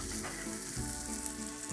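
Butter sizzling in a pan with sweetbreads and mushrooms, a steady soft frying hiss with faint stirring scrapes.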